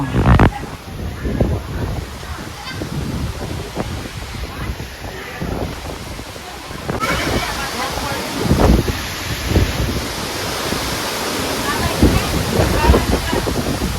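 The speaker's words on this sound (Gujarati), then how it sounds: "ફૂલ વાવાઝોડા જોવો તો ખરા તમે દૂર દૂર થઈ છે" A strong night windstorm roars in gusts, with heavy rushing wind buffeting the microphone throughout and faint voices underneath.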